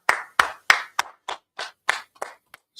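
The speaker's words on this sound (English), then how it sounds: "Let's clap it up for class" About nine slow, evenly spaced claps from a class audience, sharp and close, each separated by brief silence, with no talk over them.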